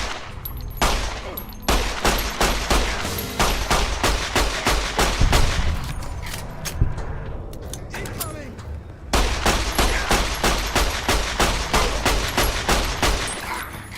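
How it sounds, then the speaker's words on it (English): Rapid bursts of 9mm gunfire from Fallout New Vegas on hardcore mode, loud and close, firing in steady repeated volleys with a short pause before a final dense string of shots. "Guy just ate 13 9mm rounds to the chest and head and kept running."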